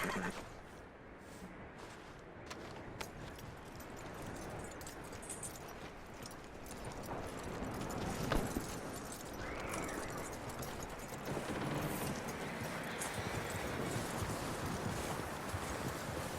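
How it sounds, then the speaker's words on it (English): Horse hooves clip-clop quietly in the open-world western game Red Dead Redemption 2, a faint, uneven trot set under a steady wash of wind and outdoor ambience. "That looks like a decent horse."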